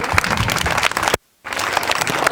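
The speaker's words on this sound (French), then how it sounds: "Applaudissez." Crowd applause at a school Christmas party in Senegal, dense sustained clapping that breaks off into a short silent gap and then resumes just as loudly.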